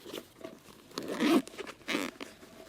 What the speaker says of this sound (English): Very durable zippers on it.